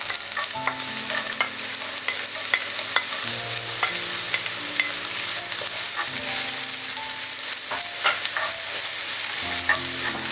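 Carrots stir-frying in hot oil over a high flame, with ginger and garlic, for vegetable fried rice: a steady close sizzle runs throughout, broken by frequent scrapes and clinks of a spatula stirring in the pan, with no talking.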